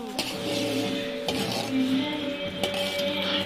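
A metal spoon scrapes and clinks around a pot of mutton biryani in steady strokes, with a few sharper knocks against the rim, close by.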